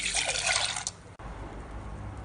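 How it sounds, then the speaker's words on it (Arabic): A cup of milk poured into a baking mixture gives a brief close splashing pour that stops abruptly, leaving faint room noise. "وهنحط ايه كوباية لبن"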